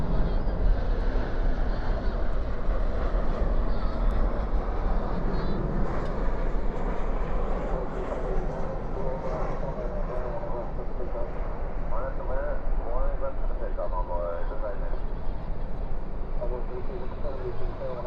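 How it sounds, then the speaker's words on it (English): An American Airlines jet lands at night at a busy airport, its engine roar sustained and heavy under continuous low rumble, with a person talking over it. "Spoilers up, reversers out on that American Airlines arrival."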